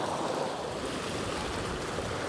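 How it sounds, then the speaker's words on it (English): Cold river water flowing near the river's head in Australia, a steady close rushing and babbling that continues without pause. "but I couldn't resist the sound of the water"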